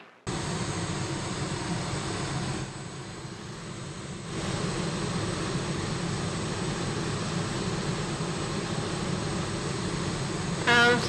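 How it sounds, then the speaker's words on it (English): Rocket roaring past in a sci-fi action film, a dense, sustained broadband rumble that stays loud and steady for the whole stretch, dipping slightly in the middle before surging back. "That is a rocket, gentlemen."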